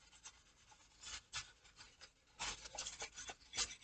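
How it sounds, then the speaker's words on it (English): A teaspoon rubs along the seams of a 1/48 scale paper model aircraft, producing soft, close scraping strokes in irregular bursts. "Always use a teaspoon like that for burnishing your seams,"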